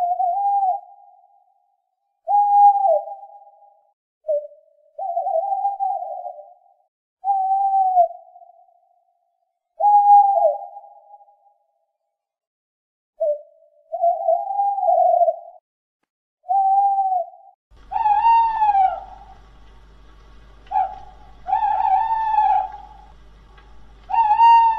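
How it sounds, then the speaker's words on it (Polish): An owl gives a string of clear, mid-pitched hoots at a steady, unhurried pace. In the last few seconds a second, brighter bird call with a ringing, layered tone joins the hoots over a faint low hum. "A teraz wystąpi sowa ze swoim uhu,"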